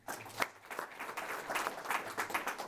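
An audience at a startup investor pitch event claps for the next presenter, with a loud early clap and then a sustained, even patter of many hands.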